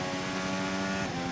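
Lotus Formula 1 car engine in the F1 25 game on a wet Imola circuit, a steady high-pitched buzzing drone held at constant revs, loud and continuous.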